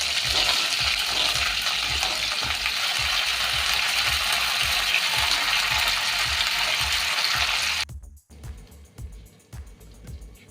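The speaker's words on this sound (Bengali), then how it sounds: "এবার দিয়ে দেব ফুলকপি। ফুলকপিগুলো এবার ভেজে নেব।" Cauliflower florets frying in hot oil with a little ghee and bay leaf give a loud, steady sizzle with regular scraping clinks from stirring, then the sound drops abruptly to a quieter, sparser crackle near the end.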